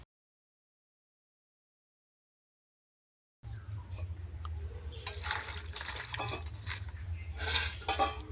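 Rose apples are washed by hand in water, with close splashing and trickling and light clinks of fruit or a bowl, coming in after a few seconds of silence.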